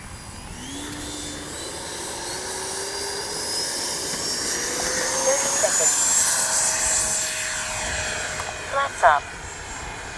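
A Freewing 80mm T-33 Shooting Star RC jet flying a quick circuit with flaps down and gear extended: a loud, sustained electric ducted-fan whine that rises in pitch as it passes, with wind rush outdoors.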